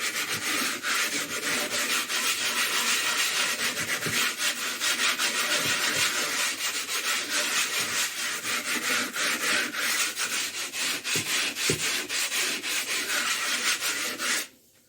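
Sandpaper is rubbed over a cement vase to smooth it, a loud, continuous rasping scrub of rapid back-and-forth strokes that runs nearly unbroken at close range before stopping abruptly.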